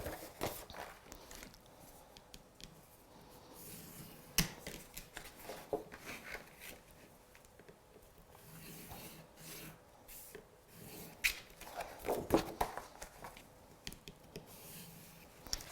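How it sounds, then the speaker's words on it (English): A scoreboard tool scoring lines into pieces of card, heard as repeated close dry rubbing and scraping strokes with small bumps and handling noises, no talking. "take both pieces of card and score."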